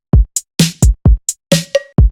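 A short FL Studio drum beat plays alone, with a punchy kick, sharp clap, an 80s-style snare and crisp new hi-hat hits in a tight repeating pattern, loud and dry.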